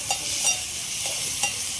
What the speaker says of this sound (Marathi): आपण जे चिकनचे तुकडे केले होते ना ते सर्व टाकून घेऊ या फोडणीतून परतून घेऊ